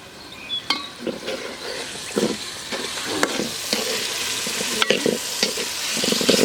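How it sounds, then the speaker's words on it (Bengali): Potatoes frying in a cooked-down spice paste in a pan, loud continuous sizzling broken by repeated scraping strokes of a spatula against metal, close and without speech. "মশলাটা কষানোর পাকে আমি আলুগুলো একটু কষে নিচ্ছি"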